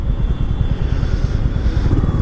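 A Honda Highness motorcycle riding on an Indian road gives a deep, loping engine thump, close and loud, pulsing rapidly and evenly without pause and with no voices over it.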